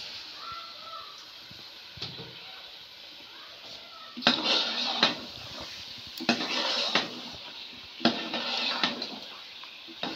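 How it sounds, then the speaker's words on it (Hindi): Chicken pieces fry in masala while a spoon scrapes and clatters against the pot in three bursts of stirring over a faint background sizzle. "देखें जी गोल गोल बोटियाँ भुनी जा रही हैं।"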